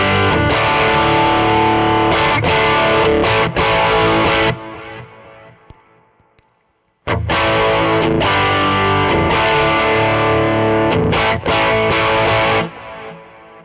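Electric guitar through the yellow side of a Joyo distortion pedal with added effects plays thick, saturated chords and riffs, sustaining loud, fading out into a pause, then resuming with more heavy strummed phrases.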